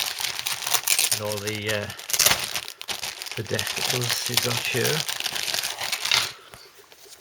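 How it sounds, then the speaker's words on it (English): Plastic bag holding parts from a Special Hobby A.W. Meteor NF Mk.14 model kit crinkles close up in bursts, with a person talking over and between the rustling. "In a nice plastic bag as well, that keeps them fresh and clean and scratch resistant."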